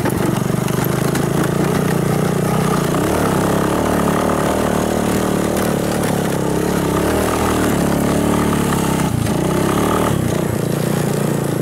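Vehicle engine hums steadily and loudly while driving through rough ground, with a constant drone throughout and no speech.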